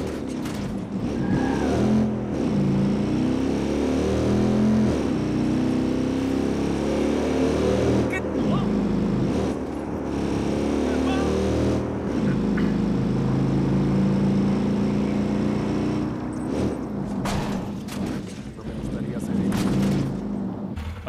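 Motorcycle engine in the Watch Dogs 2 video game, a steady droning hum that swells and revs at intervals across the whole stretch, running continuously beneath a man's ongoing chatter.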